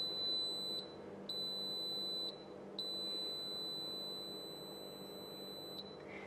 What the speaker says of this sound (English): That last long beep is a little annoying, right?